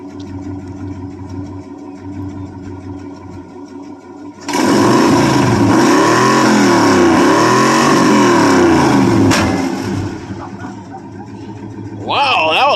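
A 1971 Chevy C20 longbed pickup with a small-block 350 and leaky exhaust idles with a steady rumble, then is revved hard into a loud, sustained roar that falls back toward idle; a sharp backfire pop cracks out near the end of the revving.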